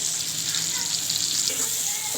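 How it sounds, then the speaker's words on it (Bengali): A steady, moderately loud sizzle of chopped onion frying in a pan, continuous and close, with faint stirring movement toward the end. "পেঁয়াজ কচিটা আসলে একটু ভাজা ভাজা করতে হবে"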